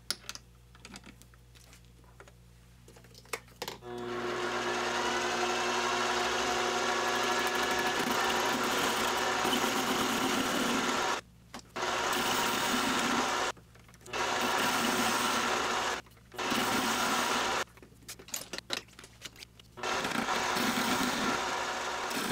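A mini metal lathe turns a heavy steel spool holder, its motor whirring with cutting noise in long runs broken by several abrupt stops and restarts, close and fairly loud throughout.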